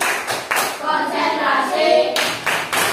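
Schoolchildren in an Indonesian classroom perform a patterned concentration clap, with loud bursts of hand claps in a set rhythm and young voices chanting between them.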